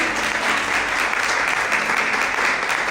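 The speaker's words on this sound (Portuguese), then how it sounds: "Quem crê nisso, aplauda o Senhor e glorifica a Deus esta noite." A church congregation applauds throughout, a dense, steady wash of many hands clapping at even loudness with no break.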